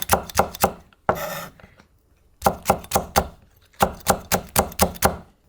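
A knife chops green onion and Cheongyang chili peppers on a cutting board, giving quick close knocking strokes in bursts of three to five, broken by a short scraping rub and a pause.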